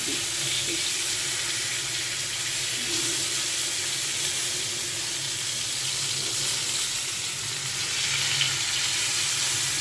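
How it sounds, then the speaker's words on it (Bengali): Coral fish fry in hot oil with a steady, close hiss of sizzling that holds at an even level from start to finish. "মাছটা আমার তেলের উপর ভাজি করা হয়ে গেছে"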